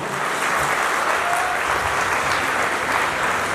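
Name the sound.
audience applause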